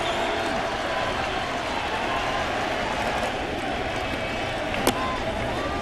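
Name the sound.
sold-out baseball stadium crowd cheering in the ninth inning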